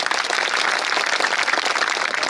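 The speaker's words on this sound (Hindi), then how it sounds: "वाह बहुत बढ़िया, जोरदार ताली" A crowd at a Hindi patriotic poetry gathering applauds steadily, dense, even clapping from many hands filling the whole stretch without a break.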